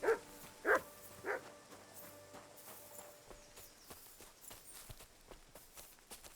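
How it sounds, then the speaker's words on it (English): In the Kingdom Come: Deliverance 2 video game, a dog gives three loud, sharp barks at the start, then footsteps and quieter ambient game sounds follow. "when he barks, he is telling you about something."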